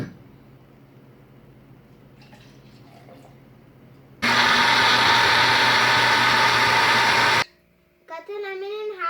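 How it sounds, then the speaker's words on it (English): A kitchen blender whirs at full power for about three seconds as it purees strawberries with water. Before it starts there is quiet background noise, and a voice speaks right after it stops. "And blend with half a cup of water."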